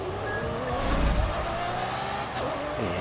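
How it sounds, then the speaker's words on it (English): Racing video game car engine whining and rising in pitch with tire skids, a steady loud drone carrying a long sliding squeal. "And here comes a car."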